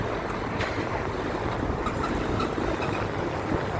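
Steady wind rushes and buffets against the microphone at Barra, Brazil, a constant broadband roar with a faint watery wash beneath it.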